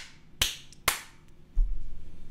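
A couple of sharp, faint hand claps ring out from a comedy show audience, quickly followed by low muffled thumps in a quiet room.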